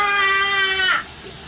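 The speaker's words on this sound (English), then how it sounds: "And you hear them now? They're happy cats." A cat gives one drawn-out meow in a steamy bathroom. It holds steady for almost a second, then bends down and cuts off, close and clear, with only quiet room noise after it.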